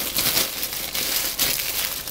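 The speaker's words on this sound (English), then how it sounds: "put it into a plastic bag" A plastic bag crinkles and rustles in bursts as a piece of pie dough is put into it, close and fairly loud with no talking.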